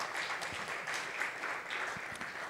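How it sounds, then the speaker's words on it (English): Audience applause for panelists at a forum on financial inclusion and climate change, a soft, even patter of many hands clapping, distant and faint, lasting a couple of seconds. "give them a hand of applause"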